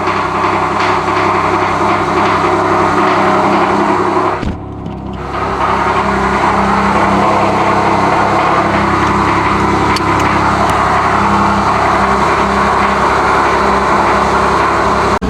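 A car engine runs loud and close for about fifteen seconds, rumbling steadily with a brief dip near the start before picking back up and revving on.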